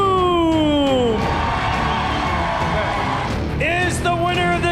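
A large crowd at a BattleBots robot-combat fight cheers and whoops loudly and continuously, with shouting voices and a swelling roar near the end.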